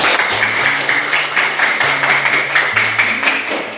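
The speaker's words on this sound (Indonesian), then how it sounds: "Tepuk tangan semuanya." A class of junior high school students applauds in their classroom, brisk group clapping for a few seconds with a steady hum beneath it.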